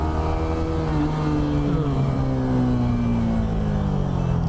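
A loud single-cylinder Suzuki Gixxer 250 motorcycle engine revs steadily, its pitch sweeping up and down with a buzzing, throaty drone and no talking.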